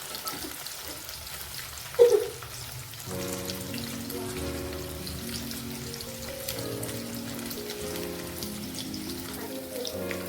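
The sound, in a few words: paneer frying in oil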